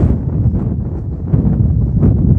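Gusty wind buffets the microphone with loud, low rumbling bursts that swell and fade throughout, no other sounds standing out.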